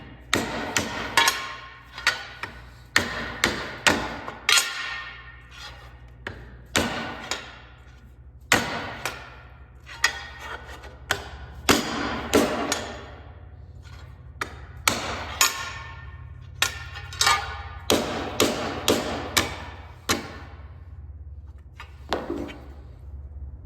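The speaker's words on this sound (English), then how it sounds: "I need a bigger hammer." A hammer strikes an aluminum car chassis panel to straighten it: sharp metallic blows in uneven bursts of several quick hits, separated by short pauses, close and alone without talk.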